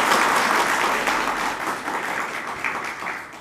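Audience at a political gathering in Nepal breaks into applause, a loud and dense crowd clapping that slowly fades, with a few sharper claps near the end and no speech on top.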